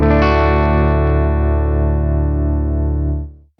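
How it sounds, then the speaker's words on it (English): A sustained guitar chord through the Morgan Amps Suite, its tremolo set to a light, shallow depth, rings loud and steady, the volume barely pulsing, before fading out at the end. "you're going to get a very light tremolo effect"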